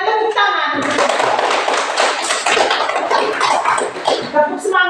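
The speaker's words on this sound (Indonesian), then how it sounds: "Ya, kita berikan tepuk tangan." A classroom of pupils applauds group 1, a dense burst of many hands clapping that swells and holds for several seconds, with a voice speaking before and over the start.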